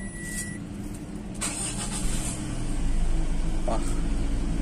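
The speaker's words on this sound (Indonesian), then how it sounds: "Coba kita hidupkan mesinnya ya, saya penasaran ya suara mesinnya." A Mitsubishi Triton HDX 4x4 pickup from 2022 cranks and starts, then settles into a steady close idle, with a person talking over the engine.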